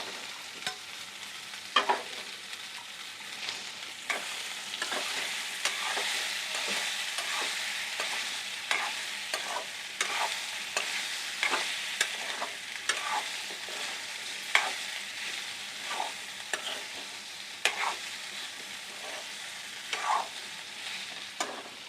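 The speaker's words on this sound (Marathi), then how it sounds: "आता हिंग टाकल्यानंतर हे आपले आवळे टाकून घ्यायचे आता गॅस आहे ना स्लो करायचा" Indian gooseberries (amla) fry in a pan with asafoetida over low heat while being stirred, giving a steady soft sizzle broken by repeated scraping stir strokes, close and with no talking.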